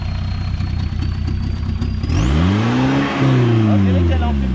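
Volkswagen Golf 3 GT 110 engine restarted after a fault, the idle catching and rising into a rough revving rumble, with a high whine dropping away as it fires; people talk nearby.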